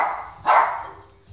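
A dog gives one sharp, excited bark, close by, while dogs are heard on a television. Faint background sound runs around the bark, and no one speaks.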